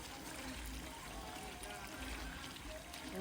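Browning sauce pours into a pot of Jamaican stew chicken at an outdoor cooking fire, a steady low liquid stream lasting the whole moment over constant outdoor background noise.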